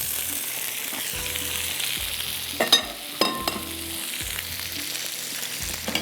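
Chicken tikka boti fries in oil on a tawa, a steady close sizzle with repeated spatula scrapes and a couple of sharp metallic knocks midway, no talking.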